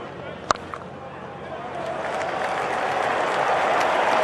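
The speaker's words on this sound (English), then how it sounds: "And that's woken the crowd up." A cricket crowd at an England versus Australia one-day match in Durham breaks into applause after a lofted shot, starting with a sharp crack and swelling into broad, building clapping and murmuring.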